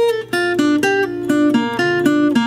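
A jazzy acoustic guitar lick from a song played alone, with a sustained low note and a run of bright plucked chords struck in a steady rhythm, close and clear.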